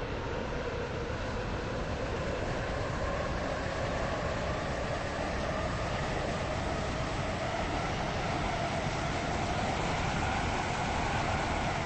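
A video game train on a Stepford Connect service rumbles along steadily, a dense continuous roar of wheels and motor with no break from start to finish.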